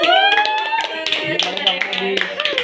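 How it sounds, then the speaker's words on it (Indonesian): People clap their hands during a nursing class on intramuscular injection, a few sharp claps mixed in with a voice talking loudly over them. "tepuk tangan"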